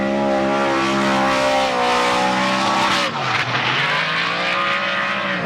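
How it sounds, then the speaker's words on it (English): A Roush Yates engine of 430-plus cubic inches screams at high revs in a drift car at a D1NZ Pro-Championship drift qualifying round at Manfeild, loud and sustained, then dips and rises again as tires squeal through the corner. "Listen to the scream of this Roush Yates machine, 430 plus cubic inches"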